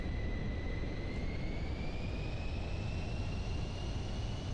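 Steady aircraft engine drone from Microsoft Flight Simulator 2024, a constant broadband roar with a faint rising whine throughout, loud and unbroken with no talk.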